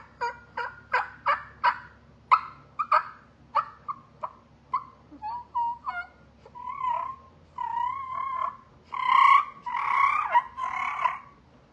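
A hand-made turkey call imitating a gobbler, starting with a rapid series of sharp clucks and yelps in a steady rhythm, then moving into longer, warbling, rolling gobble-like calls that grow louder toward the end; close and clear, with no talking.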